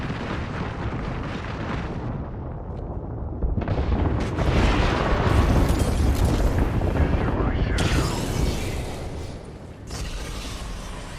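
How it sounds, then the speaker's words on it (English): Heavy artillery blasts rumble through a battle royale match in Apex Legends, with a sustained deep roar and several swelling booming impacts that build to a peak and taper off, mixed with in-game voice chatter. "Watch out, artillery."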